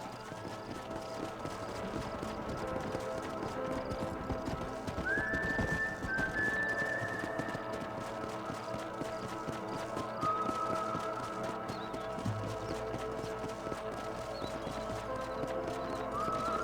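Horse hooves clip-clop steadily in the video game Red Dead Redemption, with a few whinnies rising over the trotting and a constant game ambience underneath.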